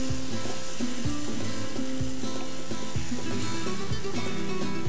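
Okra sizzles in a pan of dry, spicy bhindi masala gravy with salt, while a spoon scrapes and stirs in a regular rhythm every second or so over a constant loud frying hiss.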